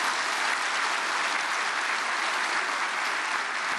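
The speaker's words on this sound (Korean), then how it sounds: "우리 박수로 환영해 주시겠습니다" Steady applause from an audience welcoming the UN ambassador to the stage at a Korean prayer gathering for peaceful reunification, a dense, even wash of clapping with no voices over it.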